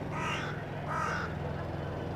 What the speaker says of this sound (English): Oh, we got the crows, the famous crows that also hang out at the Tower of London nearby, or ravens.